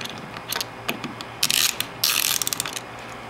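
A ratchet turns a T20 Torx screw out of a RAM power-folding tow mirror, making close, quick clicking bursts with short pauses and a couple of denser ratcheting runs.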